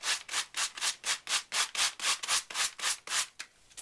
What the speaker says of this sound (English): you can just run a sand block over it